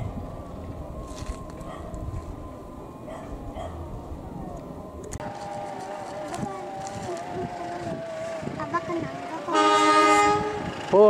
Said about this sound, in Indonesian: kita zoom dulu kereta Serayu siap berangkat